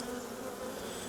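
Bees buzzing inside a beekeeper's veil, a close, continuous, steady drone that fills the brief moment without any voices.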